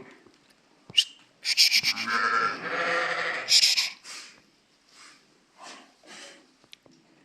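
Sheep in a village flock at Tepog'ron, Namangan district, bleat loudly and close in a dense overlapping burst, followed by several shorter, fainter bleats spaced apart.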